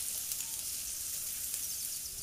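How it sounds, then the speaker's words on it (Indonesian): Spice ingredients being stirred and fried in a pan make a continuous, close hissing sizzle with faint crackles and no voices. "Aduk dan goreng sampai matang."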